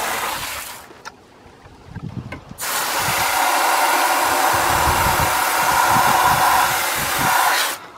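Water sprayed from a bottle into the pan of a 2010 Lennox air conditioner makes a loud, steady hiss that starts after a short pause and runs for several seconds before cutting off.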